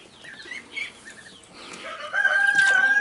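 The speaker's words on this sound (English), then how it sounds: "So let's go to the chickens." Chickens cluck and chatter softly in the background, then a rooster crows loudly and long near the end, over faint outdoor ambience.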